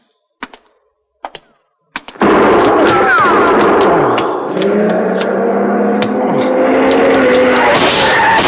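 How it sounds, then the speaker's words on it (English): Radio-drama gunshot effects: three sharp, separate cracks in quick succession against near silence, then a loud sustained roar of motor and street noise takes over. "Shooting! You've been hit."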